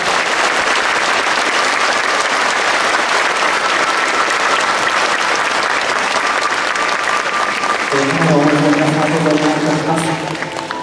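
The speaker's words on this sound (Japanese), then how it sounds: "どうぞ皆様大きな拍手をお願いいたします。" Dense, sustained applause from an audience welcoming a chairman fills the room for about eight seconds, then thins as music or a tonal sound rises beneath it near the end.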